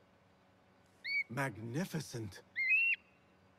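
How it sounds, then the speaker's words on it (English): Mahja, a bird in the video game Assassin's Creed Mirage, gives two short, bright whistling calls, one before and one after a stretch of someone speaking close up. "Whose bird is that?"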